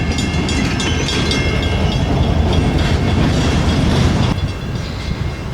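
A train crosses a bridge close by with a loud, continuous roar and rattling of wheels and cars, easing slightly near the end.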